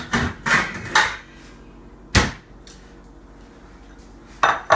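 A metal cupcake tin is pulled out from among pots and pans, making a burst of clattering, clanking metal knocks followed by isolated sharp bangs and a final rattle, close and loud with no voices.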